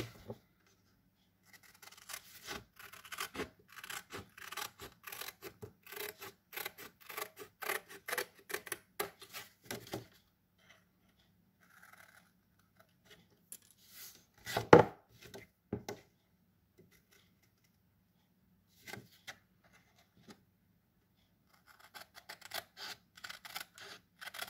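Scissors cutting through paper card for a handmade pocket card, a run of quick crisp snips that pause and return, with a sharp louder snip partway through, close and quiet with no talking.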